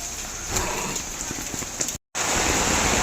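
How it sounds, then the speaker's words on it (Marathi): Heavy rain pours steadily outside on a school's first day, a dense even hiss of drops on surfaces with a brief cut midway. "पाऊस पण एवढा जोरात पडायला लागलाय ना"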